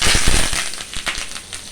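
Curry leaves and asafoetida crackle and pop hard in hot oil for a bendakaya (okra) pulusu tempering, with dense spitting bursts up close that thin out into scattered pops.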